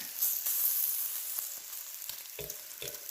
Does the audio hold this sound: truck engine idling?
no